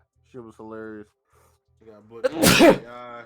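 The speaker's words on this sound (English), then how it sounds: "Alright, I gotta sneeze." A man gives one loud, sharp sneeze right after a brief stretch of casual conversation between men, with more talking trailing just after it.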